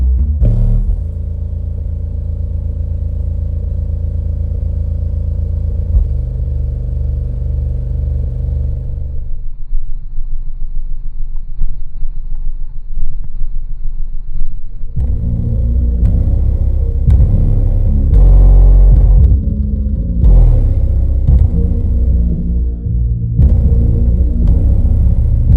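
Deep bass from a 6000-watt Massive Audio subwoofer driven by a VEVOR BP-3000.1D amplifier, a loud low rumble with steady droning tones that drops away briefly, then returns in heavier pulsing, thumping bursts.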